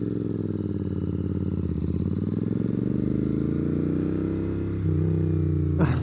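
A Royal Enfield GT650 twin fitted with a Nuke Little Boy slip-on exhaust, a close, loud engine with a steady rhythmic thump that revs and settles, then a brief burst at the end.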